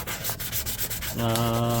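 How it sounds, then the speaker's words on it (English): Rapid rhythmic scratchy strokes of sanding on a hard Predator biomask surface after crack repair, shifting into a steadier, harsher grinding whine near the end. "I'm now sanding it all down"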